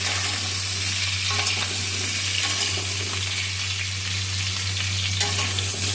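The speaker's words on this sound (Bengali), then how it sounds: "আর কেটে রাখা আলুগুলোকে ওই তেলের মধ্যে দিয়ে দিয়েছি।" Cut potato pieces fry in mustard oil in a wok, making a dense, steady sizzle with occasional stirring scrapes over a low, constant hum.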